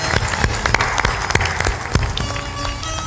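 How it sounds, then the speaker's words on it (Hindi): An audience claps in salutation at a motivational event, a loud, crisp burst of hand claps with some distinct sharp individual claps standing out over the crowd, ending in a softer spatter. "सब लोग ताली बजाकर वंदन"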